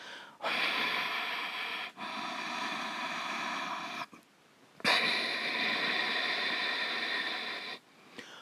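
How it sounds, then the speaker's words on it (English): Long, steady, hissing ujjayi yoga breaths drawn through a constricted throat, each lasting a few seconds with brief pauses between, close and audible in a quiet room. "So there is a breath called the ujjayi, where I use the throat as a suction pump"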